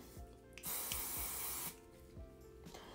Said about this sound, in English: The working spray is a very light holding spray